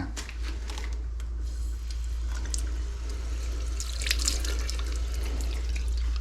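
A washbasin tap runs in a campsite restroom at a national park in Lampang, Thailand, giving a steady, close stream of water over a low constant hum.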